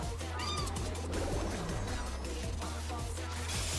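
A cat meows during a raid in a video game, the calls brief and repeated over loud, dense game sound and music.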